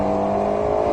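An Alpine A110 engine pulls hard on a race circuit, a loud, steady tone held close for the full second with no break.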